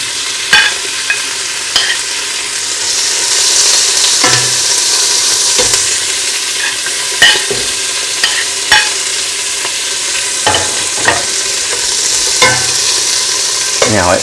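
Pork pieces sear and sizzle in hot oil for a stew, a steady crackling hiss broken by sharp scrapes and clatters as the meat is stirred in the pan.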